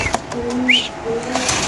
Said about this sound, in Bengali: বড় সাইজের কবুতর আল্লাহর মতো